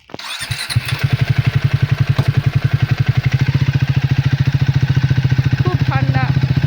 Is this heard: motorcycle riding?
yes